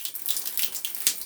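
Water runs from a pipe into a bathroom at a house on the edge of an equatorial rainforest, a steady, faint hiss of flow with a brief louder splash near the end, no one speaking.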